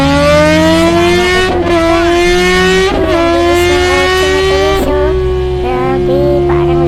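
A car engine revs loudly and continuously in the Roblox video game, its steady high whine rising and dipping with several quick shifts, close and alone without talk.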